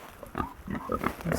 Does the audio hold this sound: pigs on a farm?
yes